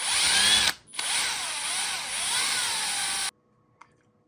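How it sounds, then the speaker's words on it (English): A power drill whirs loudly in two close bursts, its pitch sagging and rising as it drives screws into an Axial SCX6 RC truck shock tower, then stops, leaving near silence and one small click. "when you're using a drill, be careful, because it's easy to over tighten them"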